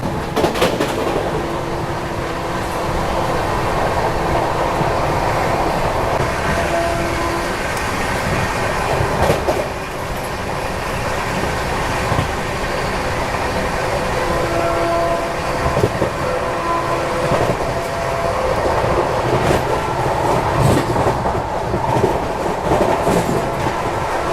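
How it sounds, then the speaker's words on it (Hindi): Duronto Express passenger train on the Delhi–Howrah route running at about 130 km/h near Khurja Junction, a steady loud roar of wheels and rail with clickety-clack and rattling carriage noise throughout, no talking. "अभी 130 की स्पीड मेंटेन किए हुए अपनी दुरंतो एक्सप्रेस"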